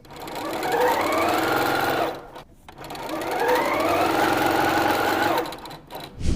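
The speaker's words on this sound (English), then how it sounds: "So I'll sew these guys together and be right back." A sewing machine stitches quilt fabric pieces together in two steady, close, loud whirring runs of about two seconds each, with a short pause between them and a brief restart at the end.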